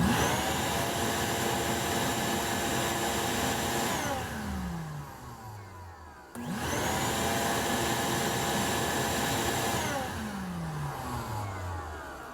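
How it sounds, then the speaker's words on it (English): A shop vac powered by a Bluetti sodium-ion portable power station whines loudly and steadily, spins down, then restarts and winds down again, close and without talk. "Let's just hit the shop vac one more time and see what we get there"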